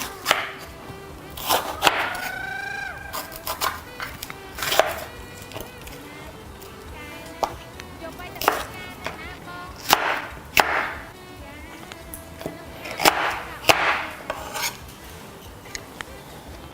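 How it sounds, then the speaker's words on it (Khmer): Knife slicing shallots on a cutting board for a seafood tom yum soup, crisp close chopping strokes in irregular bursts with some quieter gaps, no talking. "ឥឡូវនេះខ្ញុំចាប់ផ្ដើមហាន់ម្ទេសផ្លោកពណ៌ខៀវហើយ"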